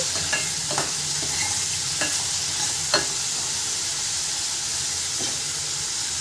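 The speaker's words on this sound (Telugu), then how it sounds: "వేయించుకోవాలండి మొత్తం కొంచెం గోల్డ్ కలర్ రావాలి" Curry ingredients, including onions and dried prawns, frying until golden: a dense, continuous loud sizzle with scattered crackles and a few utensil taps, close up and without voices.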